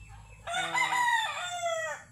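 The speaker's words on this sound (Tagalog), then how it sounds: "Ito yung mga Hats Gray ko na manok." A Hatch Gray gamecock rooster crows once, a loud, drawn-out call at close range with no other sounds around it.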